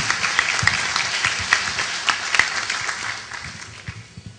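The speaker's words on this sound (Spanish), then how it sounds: "Un fuerte aplauso para el doctor Juan Ocio Acuña." A university audience gives applause at a ceremony, a steady round of many hands with a few sharper claps standing out, gradually softening toward the end.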